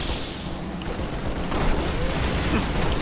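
Dense, sustained gunfire from a firefight in the video game Halo: Reach, a loud continuous roar of rapid shots and booms filling the whole stretch with no letup.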